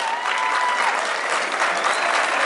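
Steady applause from a rodeo crowd at Cerro Colorado, a dense wash of clapping that carries on without a break for a couple of seconds.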